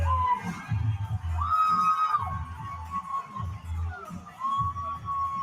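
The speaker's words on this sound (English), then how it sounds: "And listen to this crowd!" A live pro wrestling crowd in Louisville, Kentucky cheering and shouting in uneven bursts, with loud yells and whoops rising and falling across the arena.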